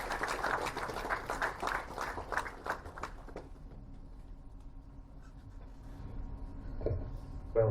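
Audience clapping at a university alumni meet to welcome the chief guest, a burst of applause that fades after about three seconds into quiet room hum with faint shuffling.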